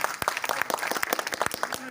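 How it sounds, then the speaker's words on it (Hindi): A brief burst of audience clapping at a Sanskar Bharati cultural gathering in Maholi, sharp uneven hand claps with voices mixed in. "तो एक बार हमारी बहन के लिए ताली बजा दीजिए।"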